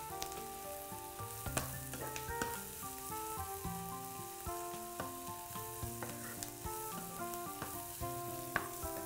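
Shrimp, onion and mushrooms frying in a pan while being stirred, a steady sizzle with scattered scraping clicks of the utensil against the pan, fairly quiet and with no talking.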